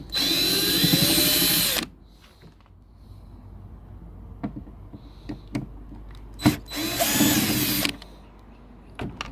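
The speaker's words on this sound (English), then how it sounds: "the old trusty battery drill" Two bursts of a cordless battery drill with a magnetic bit whirring as it removes screws, each lasting a couple of seconds, with quiet clicks and handling noises in the pause between.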